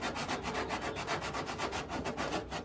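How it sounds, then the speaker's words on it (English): Hand sanding body filler on a 1968 Firebird body with 80-grit paper, giving a steady, fast back-and-forth rasping rhythm, loud and close with no voices. "Now, I've got it all sanded now."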